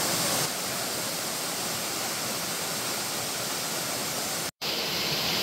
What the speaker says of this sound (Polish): to są najładniejsze wodospady, jakie widziałam w okolicy Brasylii